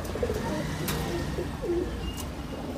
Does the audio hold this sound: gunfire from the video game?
no